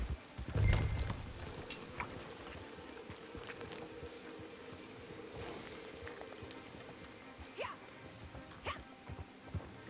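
Soft hoof clip-clops of a horse in the video game Red Dead Online at moderate distance, irregular and fairly quiet, with a heavier thump near the start and faint background ambience.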